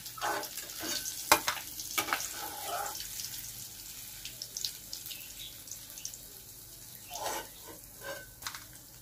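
Black cumin and a dried chilli tempering fry in hot oil, a quiet, steady sizzle with occasional spatters and a few clinks of a utensil against the pan.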